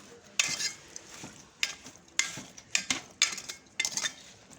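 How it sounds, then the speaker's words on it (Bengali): Vegetable curry stirred in a pan after salt goes in: a ladle scrapes and clinks against the metal in quick, irregular bursts over a faint sizzle, close up with no voices. "একটু ভালোভাবে লবণ দিয়ে নেড়ে ছেড়ে দিবেন"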